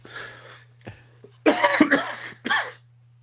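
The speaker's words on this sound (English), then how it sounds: "Pause for coughing" A fit of coughing up close: a rough cough, then a rapid cluster of hacking coughs and one final harsh cough, alone without speech.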